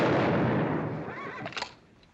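A gunshot from the western film McLintock!, a loud close crack with a rough noisy tail that fades over about two seconds, followed by a few faint higher clicks and rattles.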